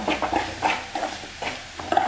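A spoon stirs an onion chammanthi mixture frying in a pan, giving five or six rhythmic scraping strokes close up over a faint sizzle, with no talk.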